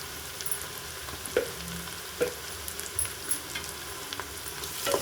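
Ginger garlic paste frying in a pan while being stirred, a steady close sizzle broken by several sharp scraping taps of a spoon against the pan, with no talking.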